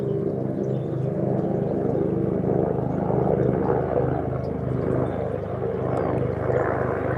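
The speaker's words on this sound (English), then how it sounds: "It looks like a sheriff's helicopter." A sheriff's helicopter passes overhead in a Southern California garden, its rotor and engine a steady, loud drone with rhythmic blade thumping throughout.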